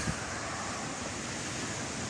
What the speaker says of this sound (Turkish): Ee, şu anda büyük, bir rüzgar var.